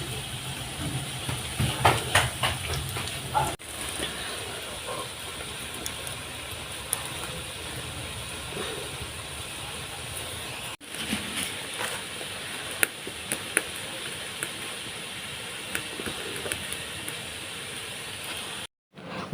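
Chicken shami kebabs frying in a pan, producing a continuous moderate hiss and sizzle with scattered faint pops and crackles throughout, heard without any voices.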